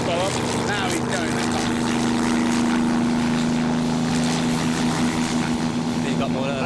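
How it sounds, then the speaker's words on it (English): Engine of a homemade land speed record vehicle running flat out, a loud sustained droning tone that holds steady and builds, heard under ongoing talk. "The engine is free to breathe, and the revs keep building."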